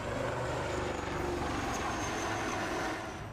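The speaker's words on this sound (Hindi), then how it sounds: "आसमान में उड़ता यह हेलीकॉप्टर हिंदुस्तान की ताकत का नमूना है" A HAL Light Combat Helicopter flying over a Republic Day parade, its engine and rotor producing a loud, sustained drone that holds steady and then fades slightly at the end.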